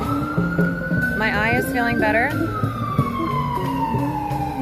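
Wailing ambulance siren on a New York City street, a steady tone joined midway by rapid yelping warbles before sliding lower as it moves off, loud over traffic noise while a person talks nearby.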